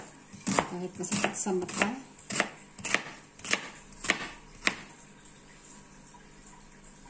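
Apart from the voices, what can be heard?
chopping ginger and onion with a knife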